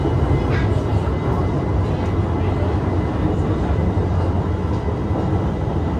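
Riding inside a Hanoi metro train on Line 2A between Cat Linh and Lang: a steady, loud rumble and hiss of the moving carriage, constant throughout with no breaks.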